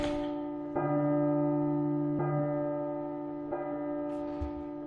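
Deep church-style bell tolling in the P.T. horror game, three loud resonant strikes about a second and a half apart, each long hum ringing on and overlapping the next, with no voices.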